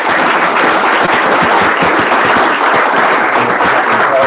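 Audience applause after a hackathon pitch at a live event, a steady, dense wash of many hands clapping at close range, holding evenly for about four seconds with no talk over it.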